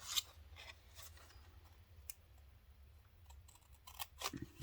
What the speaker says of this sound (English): So I'm just going to cut a little flappy flap